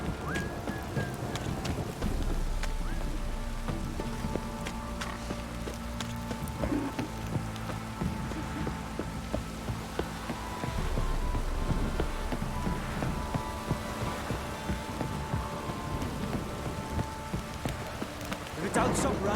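Steady rain in The Witcher 3 Next-Gen patters and splashes on surfaces, with occasional louder drops and faint low rumbles underneath.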